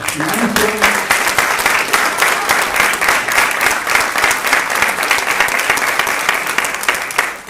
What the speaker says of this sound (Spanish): mi papá me pidió un aplauso fuerte para el maestro.